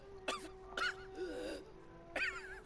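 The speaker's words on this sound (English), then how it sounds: "this guy's coughing weird" A video game character coughs in an odd, strained way: three short voiced bursts with a drawn-out moaning breath between them, fairly close, over a steady background tone.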